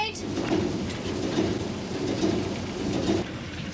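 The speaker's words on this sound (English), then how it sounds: "It's going to start thundering again." Steady rain hisses throughout with low rumbling thunder rolling underneath, a dense continuous storm texture with no voices.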